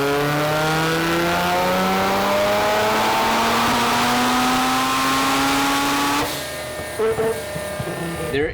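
A turbocharged rotary-engine Corvette makes a dyno pull at 20 PSI, its loud buzzing exhaust note climbing steadily in pitch for about six seconds, then dropping off into a lower burble with a few pops.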